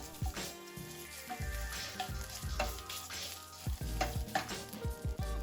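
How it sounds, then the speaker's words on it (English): Miso paste being worked into hot oil and other ingredients in a pan, with a steady sizzle and repeated scraping and stirring strokes, close and moderately loud, no voices. "Add the miso paste and begin to spread it around and mix with the oil and other ingredients."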